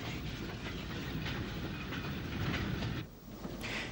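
A J11 class steam tank locomotive hauls a transfer freight out of Glanmire Road towards Albert Quay in Cork, giving a steady, loud rumble of rolling wagons with rhythmic rail clatter that dips briefly near the end before resuming.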